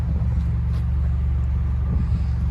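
A 2012 Chevy Cruze LT with a turbo engine and straight-pipe exhaust idles in a steady, deep, low rumble, close and continuous with no revving.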